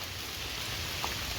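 Steady rain falls in a forest, a constant soft hiss of drops with one faint brief tap, heard alone.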